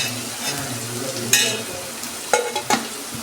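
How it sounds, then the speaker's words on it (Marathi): Onion fries in a pan for Malvani crab masala, a steady close sizzle with a few brief stirring scrapes and knocks. "कांदा चांगला परतून घ्यायचा"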